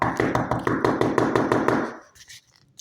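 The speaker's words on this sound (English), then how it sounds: "Kit knocked on Sterling's door." A rapid run of about a dozen sharp knocks on a door, close and evenly spaced, ends abruptly and leaves near silence.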